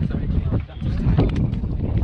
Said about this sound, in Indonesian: Angin bunyi kuat kan?